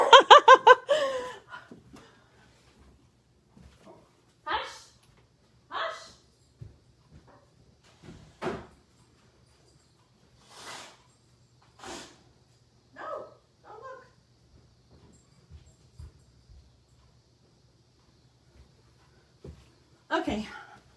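Several dogs bark indoors in short, scattered outbursts, some loud and some faint, over roughly twenty seconds while someone talks and laughs.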